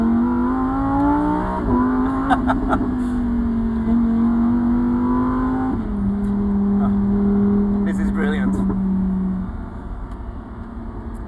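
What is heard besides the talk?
Lamborghini Huracan STO accelerating at full throttle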